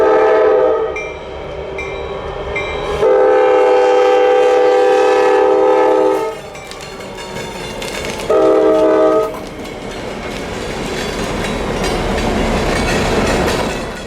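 CSX and Norfolk Southern locomotives leading local freight trains on an industrial branch line, a loud multi-chime horn sounding in two long blasts over the steady rumble and clatter of the passing train.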